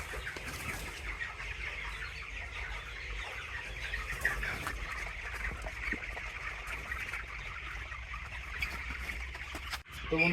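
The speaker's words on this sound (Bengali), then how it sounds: "মুরগিকে খাওয়া দেব।" Twenty-day-old broiler chickens on a poultry farm cluck softly at feeding time, a low continuous flock murmur with scattered calls throughout, fairly quiet, with a sharp knock near the end.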